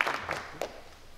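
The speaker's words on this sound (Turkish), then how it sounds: "Tabii bu alkışlar" Faint audience applause at a memorial program honoring a theater artist, a few scattered claps near the start that quickly fade into a soft, distant room murmur.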